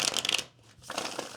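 Close-up shuffling of a tarot card deck: a riffling burst, a short pause, then another stretch of shuffling, with no talking.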